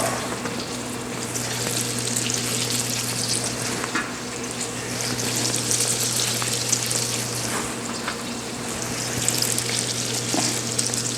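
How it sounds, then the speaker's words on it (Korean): Bread doughnuts deep-frying in oil give a steady, dense sizzle and crackle that goes on without a break, bubbling evenly close by with no one talking. "자, 또 다음 거 이어서 튀기겠습니다"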